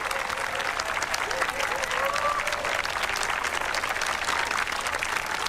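Guests at a wedding break into loud, sustained applause from a crowd that holds steady throughout, with faint voices mixed under the clapping.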